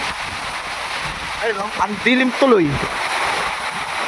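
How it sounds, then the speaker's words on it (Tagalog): A sudden heavy monsoon downpour during the habagat season makes a dense, steady hiss that fills the whole stretch, while someone talks briefly over the rain in the middle. "Biglang buhos yung ulan."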